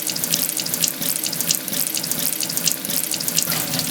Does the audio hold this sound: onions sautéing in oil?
no